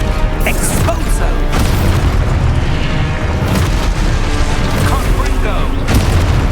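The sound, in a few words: Exposo explosion spell, Hogwarts Legacy video game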